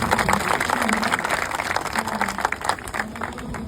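An audience claps steadily throughout, a dense close wash of applause with voices faintly audible beneath it.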